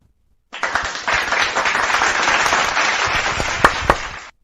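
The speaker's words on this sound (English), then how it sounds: "Let's give them a round of applause." A burst of recorded applause and cheering from a soundboard starts abruptly, plays at a steady level for about four seconds, then cuts off suddenly.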